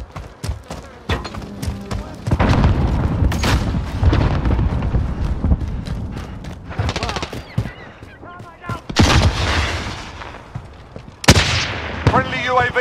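Grenade explosion and gunfire in Call of Duty Modern Warfare combat, loud bursts of automatic fire and booming blasts in clusters, close and heavy, with brief voices between the volleys.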